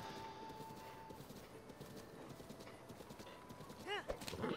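A galloping horse in Zelda Breath of the Wild, with rapid rhythmic hoofbeats over steady game ambience, a brief whinny-like tone near the end, and a voice speaking faintly underneath.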